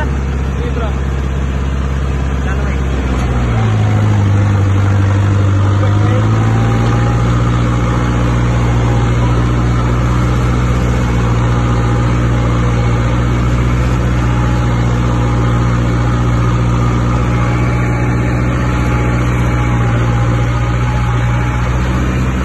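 An Arjun tractor engine runs at a steady idle, close and loud, with a brief dip and shift in its drone early on before settling into an even, continuous hum.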